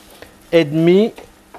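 Bulgur stirred and sizzling in a pan while being sweated until translucent: a short close scrape of stirring with a brief sizzle burst lasting about half a second, then a faint tap.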